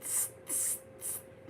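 A person imitates a spray can with their mouth, three sharp hissing bursts in a steady rhythm, each about a quarter second long, close and clear, with no words spoken.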